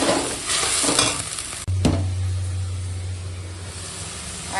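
Chili powder, turmeric and salt are stirred into a hot frying pan with ginger and garlic, giving a close, steady sizzle under scraping stir strokes, a sharp knock on the pan, and a low hum underneath.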